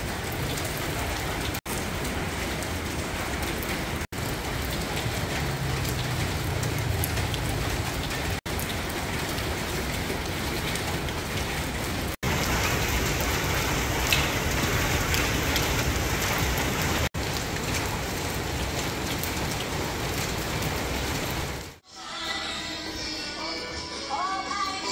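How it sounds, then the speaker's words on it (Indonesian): Heavy rain pours down steadily in a dense, continuous hiss on surfaces, nearby and loud throughout, with a few sharp clicks and a brief break near the end. "Keadaannya hujan."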